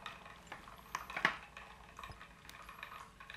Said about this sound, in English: So I've added in our chalk, and we're going to go through and give this a stir.